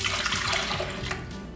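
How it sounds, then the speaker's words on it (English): Liquid yeast mixture splashes and gurgles as it is poured into a stand mixer bowl fitted with a dough hook, a short close wet pouring sound with no voices. "I'm going to pour in our yeast mixture first"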